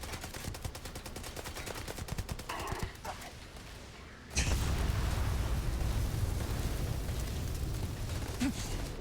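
Automatic rifle fire from the Allied AA 15 weapon in Starfield, a rapid stream of loud shots that stops briefly, then gives way to a dense, louder stretch of continuous gunfire and combat noise.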